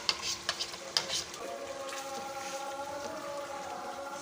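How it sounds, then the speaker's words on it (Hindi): Blended onion and coriander paste sizzles and fries in a chicken karahi, a few sharp stirring clatters at the start, then a steady close hiss with no talk. "अब इस मौके के ऊपर इसमें हमने प्याज और धनिया जो ब्लेंडर में डाल के ब्लेंड किया ये डाल देते हैं।"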